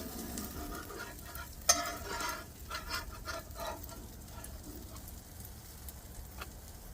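Pancake batter sizzles on an outdoor griddle, a soft steady frying hiss with a brief sharp tap near the start as one is flipped, no talking.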